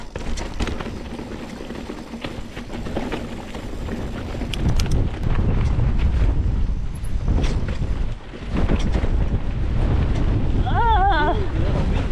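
Wind buffets the microphone in a steady roar during a mountain bike descent on rocky cross-country terrain, with a crosswind blowing near a steep drop; people talk and exclaim over the rush.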